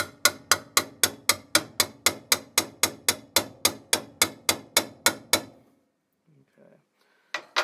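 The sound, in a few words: hammer tapping a drag boat header tube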